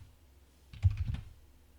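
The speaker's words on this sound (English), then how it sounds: "you can just click and just type." A short burst of computer keyboard typing, a few quick soft key clicks clustered together, fairly faint and close, with quiet room tone before and after.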